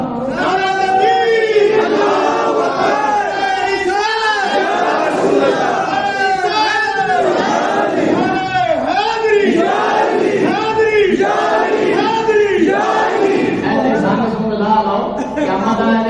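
A large congregation at a religious mehfil gathering on the Prophet's ascension shouts a devotional slogan together, loud, sustained massed voices rising and falling in waves across the whole stretch.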